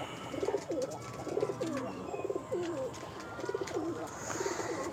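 Home-loft Andhra pigeons coo in the evening, a close, steady run of soft, rolling coos repeating in a regular rhythm over a faint background hiss.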